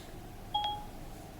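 A single short electronic beep sounds as a phone call is placed through the Siri voice assistant. It is a clear, brief tone over a quiet background.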